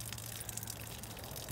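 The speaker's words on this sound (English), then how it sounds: "that is the antifreeze just pouring out" Antifreeze gushing steadily out of an opened water valve on a Forest River Flagstaff Micro Lite pop-up camper during winterizing, a continuous close splashing pour with no break.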